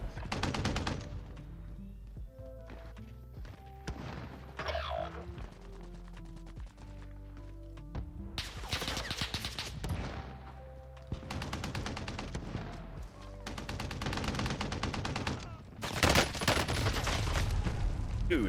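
Stoner machine gun in Warzone firing in repeated bursts, loud and close, with long sustained volleys near the end and other gunfire mixed in.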